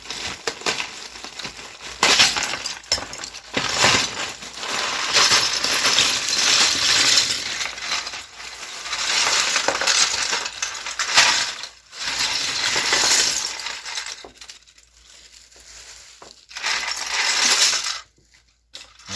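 Crinkly plastic bags of Lego pieces rustling and tearing open with small hard pieces clinking and rattling, loud and close, coming in bursts with short pauses between.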